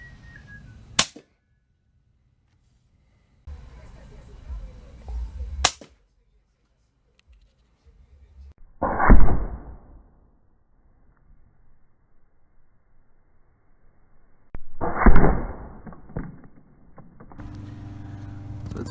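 Air rifle shots fired at meat wrapped in plastic, .22 and .25 calibre: a few sharp, loud cracks with brief thuds, spaced apart by near-silence, plus some handling noise.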